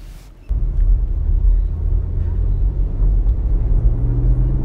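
A BMW 740d xDrive diesel 7 Series M Sport pulls away under firm throttle. After a quiet half second, a deep engine rumble rises and holds strong and low throughout, heard from inside the cabin with no voices.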